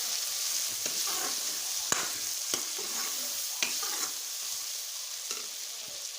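Red chili powder being stirred into lentil dal with potatoes that sizzles steadily in the pot, a spoon scraping in irregular strokes over a constant frying hiss.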